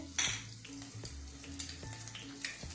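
Chopped onion, green chillies and spices frying in a pan for masala khara pongal, a steady close sizzle broken by several sharp scrapes and clinks of a spatula stirring against the metal.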